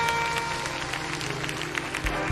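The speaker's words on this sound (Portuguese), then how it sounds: "aplauda o melhor que você puder" A church congregation applauds with raised hands during a worship service, a steady wash of clapping that holds throughout at moderate level, with faint organ or keyboard tones lingering underneath.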